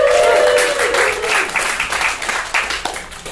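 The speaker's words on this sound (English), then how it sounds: "Not as much applause" Studio audience at a comedic spelling bee show claps for a contestant, a moderate burst of applause that tapers off over a few seconds while a voice speaks at the start.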